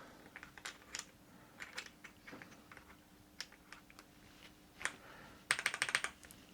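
A budget £50 mechanical keyboard gives off a scatter of light plastic clicks and taps as a keycap is pressed back onto its switch, with a brighter cluster of close rattling clicks near the end.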